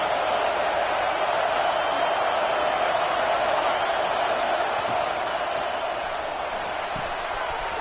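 Broad, steady roar of a football stadium crowd during an Oregon vs Nebraska game, a dense wash of many voices sustained evenly throughout with a few faint thumps.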